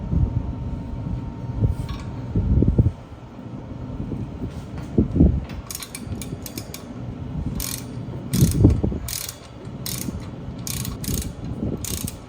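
A torque wrench tightens rotor bolts on an aluminum wheel hub during a motorcycle wheel bearing install, giving a few distinct mechanical clicks and ratcheting bursts, close by, over a steady workshop hum.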